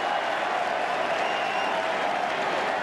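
Crowd applause and cheering fill an arena during an Olympic basketball game between Croatia and the Unified Team, a steady dense wash of clapping throughout with no clear breaks.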